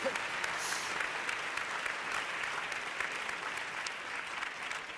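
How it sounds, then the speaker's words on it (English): Applause from the audience at the LUX Audience Award 2025 ceremony fills the hall, continuous and fairly faint with scattered sharper claps and murmuring voices mixed in. "a big round of applause, everyone, to the winners of the LUX Audience Award 2025"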